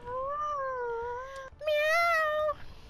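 A cat gives two drawn-out, wavering meows, close and fairly loud, the second higher and stronger than the first.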